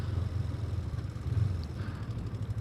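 A Kawasaki Ninja 250 motorcycle engine idles with the choke out on a cold winter day, a steady low rumble holding an even pulse throughout, no voices.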